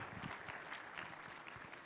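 An audience claps for a youth theatre play at a church seminar, a soft, distant patter of applause with quick irregular claps.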